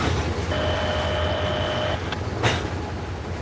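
Freight train rolling through the DeButts rail yard, a loud continuous low rumble with a sustained tonal whine partway through and a brief sharp clank, no talking.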